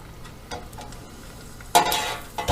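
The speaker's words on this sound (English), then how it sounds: "I'm just going to take a small piece of the wonton wrapper and see how it reacts. And you can see it start sizzling." A small piece of wonton wrapper dropped into hot deep-fryer oil bursts into a loud, bright sizzle after a quiet lead-in, holding steady and flaring again at the end.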